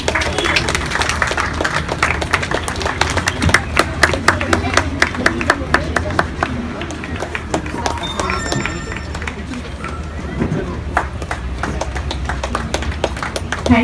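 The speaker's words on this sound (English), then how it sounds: "Clap, please clap, everyone." Audience clapping at a children's graduation day ceremony, a crowd of sharp, uneven handclaps running nearly throughout, close and fairly loud, with voices talking over the clapping.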